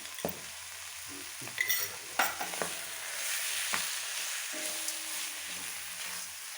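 Goat tripe and liver with salt fry in a pan, a steady broadband sizzle with intermittent stirring scrapes and clinks, fairly close and moderately loud, with no voices.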